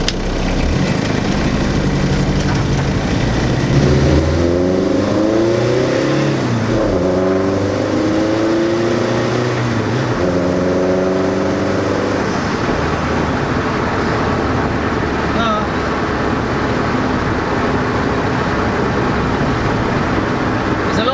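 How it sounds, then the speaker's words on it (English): The Racetractor, a tractor-engined car, revs repeatedly while being driven. Its engine is loud and close, rising and falling in pitch through several throttle blips over a constant rumbling drone. "it's my last chance today to take the Racetractor for a drive"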